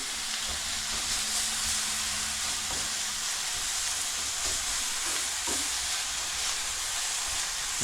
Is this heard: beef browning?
yes